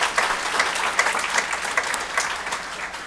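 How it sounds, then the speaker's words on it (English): Audience applause at a book launch about the Hajj pilgrimage, a steady even wash of many hands clapping that holds at a moderate level for the whole stretch with no voices over it. "Let's give him a big round of applause."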